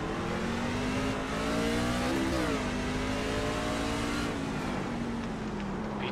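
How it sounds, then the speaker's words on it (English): Racing truck engines in the iRacing sim at Martinsville Speedway drone loudly and continuously, their pitch rising and dipping through the corners with other trucks roaring close by, no talk. "I don't know if that's the sound of my truck or if it's the sound of other people."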